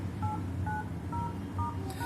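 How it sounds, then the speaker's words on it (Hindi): DTMF tones from a mobile phone keypad, a series of short paired beeps repeating at steady intervals over a low background hum, with no one speaking. "ये सभी हमारी DTMF टोन्स होती हैं।"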